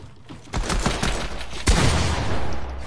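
Gunfire in a video game, loud bursts of rapid shots in two clusters, close and dense, with no talking.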